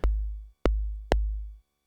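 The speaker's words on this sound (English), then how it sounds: "It's like slight sort of overtone distortion by slightly folding the waveform" A synthesizer plays three deep, booming tones with slight wavefolding overtone distortion, each a sharp-attack low pulse that decays over about half a second, the second and third struck in quick succession, alone and clean.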